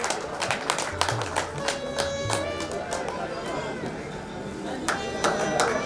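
An audience applauding at an award presentation during a Bhiwandi depot staff gathering, a steady wash of scattered claps, with crowd chatter and voices running underneath throughout.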